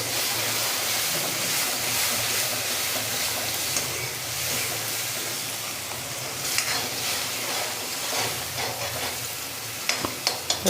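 Onion and tomato gravy sautéing in a pan on the stove, a steady sizzle and frying hiss with light stirring and scraping, and a few clicks of the spoon near the end.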